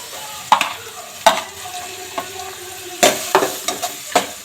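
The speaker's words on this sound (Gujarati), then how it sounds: "ડુંગળીને થોડીક વાર માટે આવી રીતના સાતરી લેશું." Green onions sauté in a pan for pulao, giving a steady low sizzle broken by several sharp, close spatula scrapes and taps against the pan.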